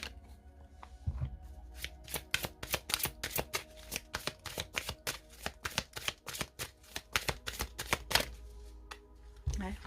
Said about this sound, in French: Je vais peut-être te prendre une carte des vies antérieures pour voir si ça a un rapport avec ça